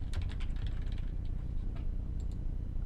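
Typing a case name on a computer keyboard, a quick run of close, light key clicks over a low background hum, no voices.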